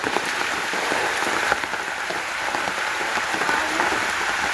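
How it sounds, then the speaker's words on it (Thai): Steady, dense rain falls and patters on surfaces nearby, a constant hiss with no pauses and no voices. "ฝนตกแล้ว"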